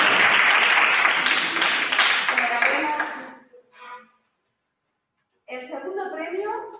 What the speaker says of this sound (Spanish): Aplaudirles a los compañeros.